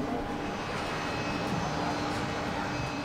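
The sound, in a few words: airplane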